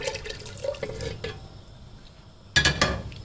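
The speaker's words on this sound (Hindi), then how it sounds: "इसमें गर्म पानी शामिल कर दिया" Hot water tipped into a pot of leftover meat broth and spices, a brief watery splash with light clinks of a metal pot standing out after quieter kitchen clatter.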